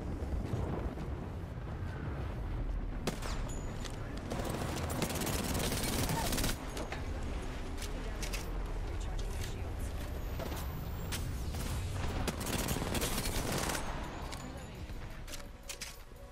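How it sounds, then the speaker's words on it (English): An airstrike in the battle royale shooter Apex Legends rumbles on for many seconds as a dense, continuous barrage of explosions and crackling blasts, with scattered sharper bangs and voices talking over it. "Airstrike."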